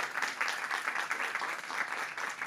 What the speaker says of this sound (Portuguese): Por favor, palmas para o Lindenér.